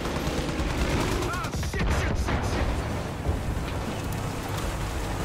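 Gunfire in the shooter game Far Cry 5: dense bursts and rapid crackling volleys of shots, loud and close, continuing throughout amid noisy background clatter.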